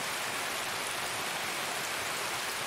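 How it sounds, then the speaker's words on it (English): Steady rainfall in Escape from Tarkov, a dense, even hiss of drops on surfaces filling the scene with constant, close noise and no other sounds. "Oh, and it's raining, of course."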